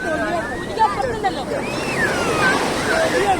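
Sea waves washing on a beach make a continuous rushing surf, with lively voices and calls from people nearby over the top.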